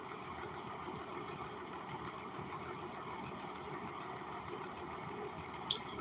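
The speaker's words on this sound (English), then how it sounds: "I gotta sew in the top part." A sewing machine stitches the top part of a doll outfit in a steady, unbroken mechanical whir that runs for the whole stretch, with no talking over it.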